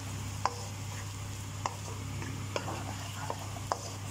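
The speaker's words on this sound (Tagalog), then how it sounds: "Paghaluin para maluto ang vegetables." A spoon stirs vegetables for egg fried brown rice in a pan, giving a few sharp, evenly spaced scraping clicks over a steady low hum, with no one talking.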